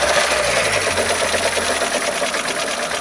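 A Ford Fiesta 1.0 Zetec Rocam engine with an engine fault and the oil light on runs with a dense, rapid mechanical clatter and ticking, heard close and continuous at a steady level with no talk.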